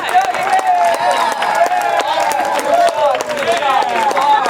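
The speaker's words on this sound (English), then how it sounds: "can we get a round of applause?" An audience gives a round of applause at a stage performance of the musical How to Succeed in Business Without Really Trying, with scattered claps running steadily beneath a loud whooping, cheering voice.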